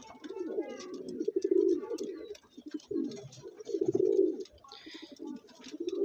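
Pigeons in a loft coo in repeated throaty bursts at close range, rising and falling in swells with brief pauses, with faint rustling and chirps between calls.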